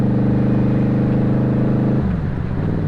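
A Yamaha VMax motorcycle rides along Wisconsin back roads in cold weather, its engine droning loud and steady up close, then shifting pitch as the revs drop partway through.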